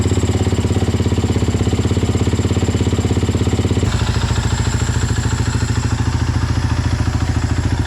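A Husaberg 450 FE four-stroke motorcycle engine idles to warm its oil, a steady, close, rapid thumping putter with mechanical clatter that shifts slightly in tone partway through and runs on without a break.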